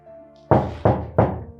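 Three firm, evenly spaced knocks on a door, close and loud, each a hollow thud that quickly decays, with no voices.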